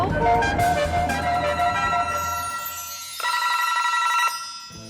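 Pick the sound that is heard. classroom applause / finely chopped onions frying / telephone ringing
telephone ringing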